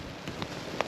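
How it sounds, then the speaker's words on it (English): Rain patters on a wild camping tent, a soft continuous hiss with a few distinct drops tapping the fabric close by. "it's got a bit warmer, and there's a fair bit of rain"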